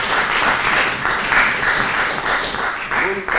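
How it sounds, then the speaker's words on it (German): Audience claps after a German talk on sovereign money reform, a dense, even roar of applause filling the room with no break. "Applaus"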